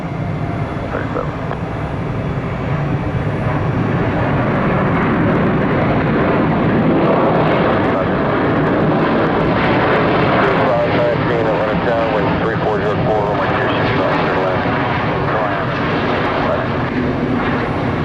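A jet airliner takes off from Atlanta International Airport, its engines a loud, steady broadband roar that holds for the whole stretch, with faint voices underneath.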